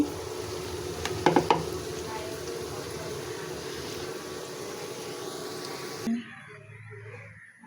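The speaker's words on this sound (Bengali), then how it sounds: "এখন আমি যে বেগুনে ভেজতেছি" Eggplant fritters (beguni) fry in hot oil for Iftar snacks, a steady broadband sizzle with a few sharp clatters early on, then the frying cuts out abruptly near the end, leaving a quieter low hum.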